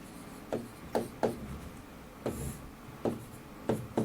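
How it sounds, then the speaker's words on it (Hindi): Chalk tapping and scratching on a classroom board while a question is written, in short irregular strokes spaced about half a second apart, close and faint. "देखो भाई, एक क्वेश्चन लिखता हूं।"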